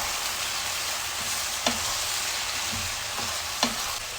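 Carrots frying in a pan over high heat, a steady close hiss and sizzle with a few soft clinks of stirring mixed in.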